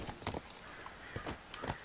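Horse hooves clip-clopping in The Last of Us, a rapid irregular series of close, crisp hoofbeats at a walk or trot, with no talk over them.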